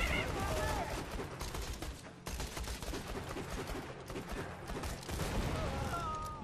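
Sustained automatic gunfire from a gun in Borderlands 2 rattles on almost without pause, loud and busy, with bursts and booms mixed in and a voice talking over parts of it.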